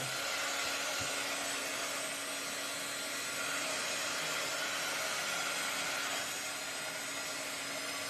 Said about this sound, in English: this is a heat tool, an embossing tool.